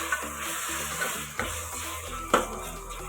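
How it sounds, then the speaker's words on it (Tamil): Tomatoes frying in oil in a pan are stirred with a utensil, giving a steady close sizzle with scraping knocks and clinks of the spoon against the pan. "தக்காளியை போட்டுட்டு நல்லா இந்த எண்ணெயிலே நல்லா மயணும் தக்காளி. நல்லா கலந்து விட்டுக்கணும்."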